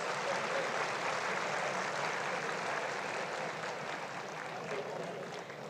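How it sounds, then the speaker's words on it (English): Sustained applause from a large audience at India's first National Space Day celebration, a dense, even wash of clapping that stays steady throughout without talk. "Let's have a big round of applause for all these scientists."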